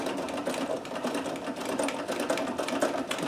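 A Necchi BU Nova sewing machine stitches a double zigzag at a steady fast whir with a rapid needle chatter, close by and unbroken, with no talking.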